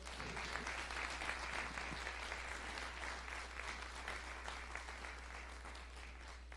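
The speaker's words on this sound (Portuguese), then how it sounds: "Você pode aplaudir ao Senhor?" A church congregation applauds steadily and fairly evenly for several seconds, a dense sustained patter of many hands with no speech over it.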